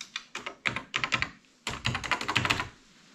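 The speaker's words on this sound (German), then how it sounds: "Da ist auch noch eine Schreibmaschine," Keys struck on an old, broken typewriter in an abandoned office, a close burst of crisp mechanical clacks, a short pause, then a faster run of strikes, with no talking.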